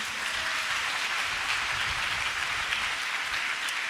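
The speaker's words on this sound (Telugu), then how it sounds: "గట్టిగా ఒకసారి చప్పట్లు కొట్టండి." A church congregation at a Hosanna Sunday service claps loudly together, a dense, sustained burst of applause that fills the room with no talking.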